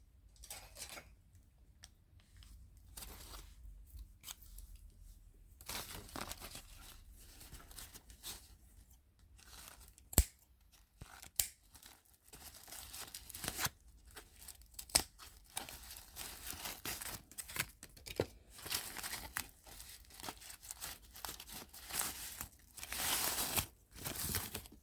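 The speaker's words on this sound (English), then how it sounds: "I think I'm going to have to do some cutting to cut this off." Scissors snip and plastic crinkles while a tag is cut off a Coach Wesley tote bag, with scattered sharp clicks, tearing and rustling at close range, with no talking.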